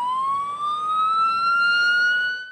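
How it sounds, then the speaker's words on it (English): A fire truck siren wails in a long rising tone at a blaze, loud and close, holding steady without any voices. "all the sirens on the fire trucks caught her attention"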